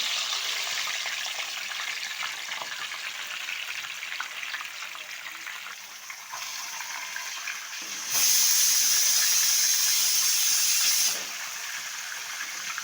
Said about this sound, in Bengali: তো মাছটা এইভাবে ভালো করে আমি ভেজে নেব।